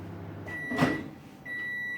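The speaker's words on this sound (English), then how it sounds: "Microwave is beeped." A microwave oven gives two electronic beeps separated by a soft clunk, close by in a quiet room.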